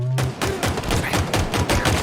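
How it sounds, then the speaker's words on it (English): Rapid, evenly paced pistol shots from the Sidekick in Halo Infinite crack out one after another, close and punchy, in a quick burst of roughly a dozen reports with no talk. "Once you get the pacing down, you start breaking shields, landing that final flick headshot"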